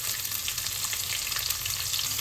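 Chopped onions fry in hot oil with cumin seeds and curry leaves, giving a close, steady, crackling sizzle with no talking.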